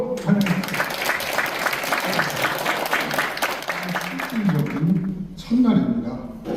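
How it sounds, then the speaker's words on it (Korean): An audience at a coffee talk forum breaks into steady applause to welcome a guest lecturer, the clapping dense and sustained with a voice speaking over it and a brief swell near the end. "박수로 환영합니다."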